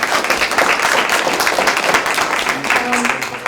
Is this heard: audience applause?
yes